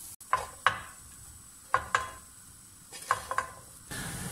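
A spoon scrapes and clanks in a frying pan holding onions and goulash meat dusted with corn flour, about six or seven distinct knocks in uneven pairs over a faint sizzle, with no voices.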